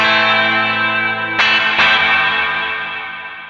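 A Fender Telecaster with Virgil Arlo pickups and Stringjoy strings rings out through a Rev D20 plate reverb pedal, sustained chords with two sharp strums, then a long lush reverb tail fading away alone.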